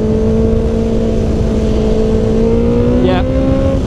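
Honda CBR650R motorcycle pulling under acceleration in a higher gear, a loud steady engine drone that slowly rises in pitch, heavy wind rush throughout.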